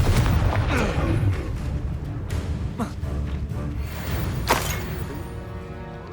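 Confringo blasting spells explode in rapid succession during combat in the Hogwarts Legacy video game, with repeated booms and crackling bursts layered over a dense, continuous backdrop of battle noise.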